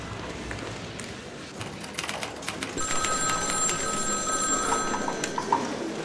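A telephone rings with a steady, bright electronic trill that starts partway through and repeats evenly over a background of soft tapping and room noise.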